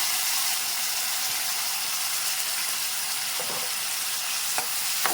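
Washed tomatoes sizzling in a hot frying pan, a steady dense hiss with a few light stirring scrapes and clicks near the end, close up and without speech.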